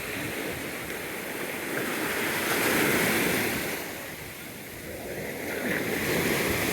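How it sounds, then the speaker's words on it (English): Ocean waves roll in at Point Pleasant Beach, a steady broad wash of surf that swells and eases in slow surges, with light wind over the microphone and no talking. "It's nice waves."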